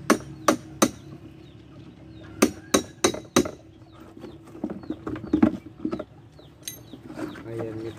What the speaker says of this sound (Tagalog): para may tulak yung pako pag pinupok natin ang ating martilyo